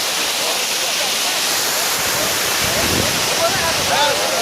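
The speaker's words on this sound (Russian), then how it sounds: "Это Нихолойские водопады, город Грозный, столица нашей республики." The Nikhaloy waterfalls in Chechnya roar in a dense, constant hiss of rushing water, close and loud throughout, with no other clear sounds above it.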